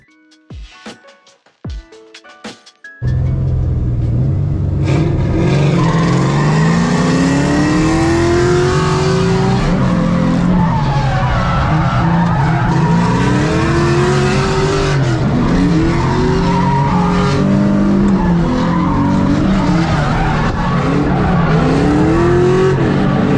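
Drift car at a competitive drift event skidding around the track, with a loud, sustained engine roar and long sweeping tire squeals rising and falling as it slides, following a few sharp impulsive bangs at the start.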